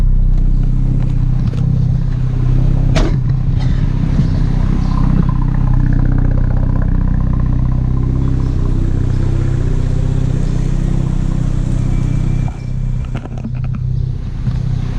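A 30-year-old Mazda RX7 FD3S tuned to 320 horsepower idles and revs with a loud, steady rotary rumble throughout, a sharp clatter near the start and a dip in engine level toward the end.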